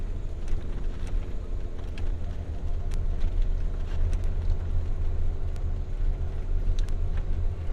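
An RV's tires spin in soft sand, a steady low engine roar and churning rumble with wind buffeting the microphone, continuous and close throughout without a break.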